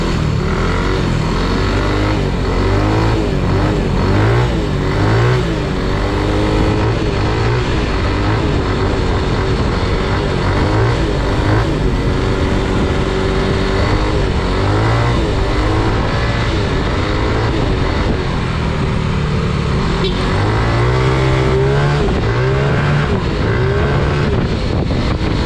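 A Yamaha Mio i 125 scooter with a racing ECU revs on a road test during break-in, its engine droning loud and continuous with rising and falling pitch as the throttle is worked.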